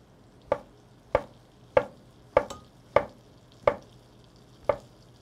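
A knife slices mushrooms on a cutting board with seven evenly spaced, crisp chops, close and fairly faint against a quiet background.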